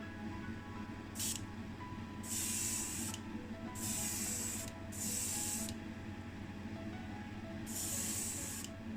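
An airbrush sprays Green Stuff World Candy Ink in Jade Green onto a model VW Beetle Baja Bug in five short hissing bursts of about a second each, faint over a steady low background hum.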